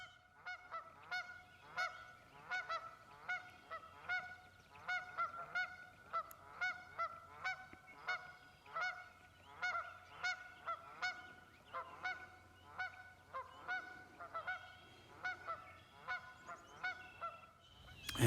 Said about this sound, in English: got to hear sandhill cranes and geese and wood ducks and mallards and many of the migratory birds